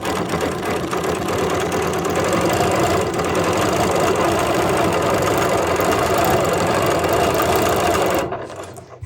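A serger sewing machine stitches quilt string blocks in a loud, continuous fast mechanical whir and rapid needle clatter that runs steadily for about eight seconds, then stops abruptly.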